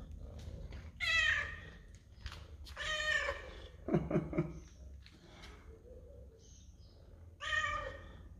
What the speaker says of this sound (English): But yeah, all the cats lining up. They want Opel's food.